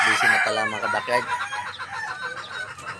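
A backyard gamefowl stag recovering from illness, heard up close crowing once and then clucking in short bursts that fade off.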